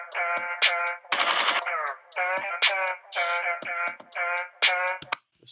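A stripped-back hip-hop verse carries only a counter melody: a bright, buzzy synth line in short rhythmic phrases, loud and close, with a dense burst near the start and no vocals over it.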